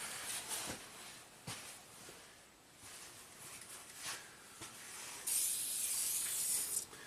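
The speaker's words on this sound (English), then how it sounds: "Use a little WD-40 on there." WD-40 sprayed onto a Maserati engine cover gives several short, faint aerosol bursts, then a longer, brighter hissing spray near the end, with soft handling noises in between.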